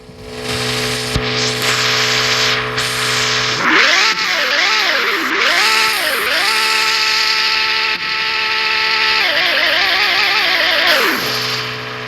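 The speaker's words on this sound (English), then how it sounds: "It revs so fast." A newly bought car's engine revs up and down in several quick, sweeping bursts, loud and close, with a steady electronic tone underneath and no talking.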